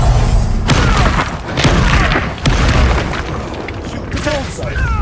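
Incendio fire spell cast in Hogwarts Legacy combat: loud, booming bursts and whooshes in quick succession within a busy battle mix, with a voice talking over parts of it.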